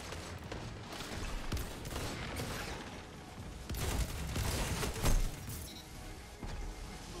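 Gunfire in the video game Destiny 2 during an Iron Banner Rift match, dense bursts of shots and impacts rattling continuously with a few louder cracks near the end, busy game sound mixed throughout.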